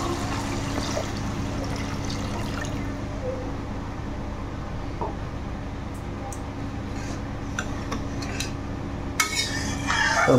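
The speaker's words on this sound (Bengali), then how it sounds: "এখন খানিকটা জল দিয়ে আবার হলো বলক উঠাবো।" Water poured into a pot of fried spice masala for a Bengali cholar daler dhoka, a steady trickle and simmering wash with occasional metal pot and spoon clinks, louder scraping near the end.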